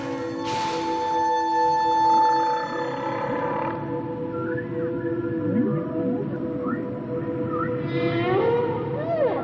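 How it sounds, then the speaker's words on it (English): Whale mating songs in the open ocean, long moaning tones that sweep up and down, echoing and overlapping, steady and fairly loud with no voices. "whales' mating songs are being heard from Canada to the Caribbean"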